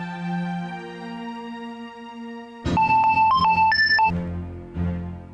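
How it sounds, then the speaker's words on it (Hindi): Phone call being placed: a steady electronic tone runs first, then a melodic ringtone of short bright beeping notes plays loudly for a little over a second before the tones resume. "अभी फोन मिला के बात कर लेते हैं।"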